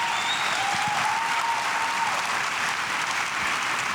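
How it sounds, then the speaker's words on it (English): An audience applauds at the Asbury Park Music and Film Festival, steady, dense clapping from a roomful of people that carries on evenly throughout. "he deserves a round of applause"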